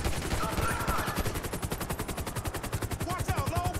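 Rapid bursts of automatic gunfire from a helicopter in Grand Theft Auto 5 crackle steadily and loudly throughout, a dense continuous rattle with a faint whine of rotor and engine underneath.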